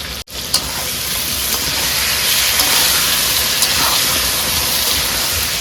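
Potatoes frying in a pan give off a loud, continuous sizzling hiss close up, steady throughout with a few small stirring clicks.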